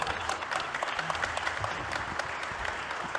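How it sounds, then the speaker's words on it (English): Audience applause at a space industry roundtable, a steady, close crowd of hands clapping evenly with a little murmur underneath. "A big applause to Philippe Baptiste."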